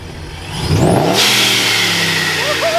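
A boosted RAM 4x4 pickup truck engine revs up sharply, climbing to a loud roar that holds steady at high revs, close and dominant.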